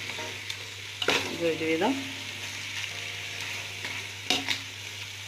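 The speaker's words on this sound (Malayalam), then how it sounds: "നമുക്ക് ഇളക്കി കൊടുക്കാം നല്ലോണം." Hyderabadi chicken dum biryani masala is stirred in a pan, making continuous close sizzling with a few louder scraping bursts, while a person speaks briefly over it.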